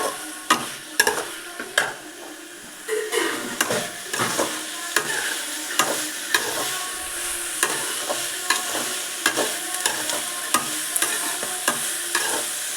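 Garlic sautéing in a pan while being stirred, a steady sizzle of frying under repeated scraping and clinking strokes of a spoon, close and continuous with no talk.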